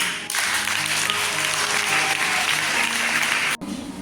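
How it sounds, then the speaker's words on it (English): A school audience at a farewell event for a girls' school principal breaks into warm, steady applause that continues throughout, then cuts off abruptly near the end. "So please welcome them with warm applause"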